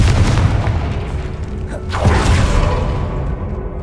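Confringo fire-blast spell in Hogwarts Legacy, a loud booming explosion with a whooshing burst midway and crackling, rumbling debris around it, alone without speech.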